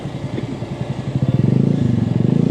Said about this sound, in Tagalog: Pero pinapasok na lang yung mga motor nila.